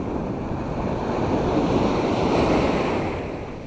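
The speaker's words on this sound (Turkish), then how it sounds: "Güzel bir deniz." Waves roll onto a Black Sea beach at Karasu on a hazy November day, a continuous, close surf wash that rises and falls, with wind buffeting the microphone and no one speaking.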